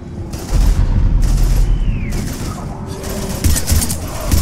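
Heavy gunfire and explosions rattle through a battle in Mass Effect 3 as Reapers attack Earth, sustained bursts of shots and booms loud and near, with a whistling streak passing overhead midway and no talk.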